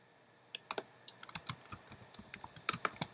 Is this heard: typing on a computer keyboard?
yes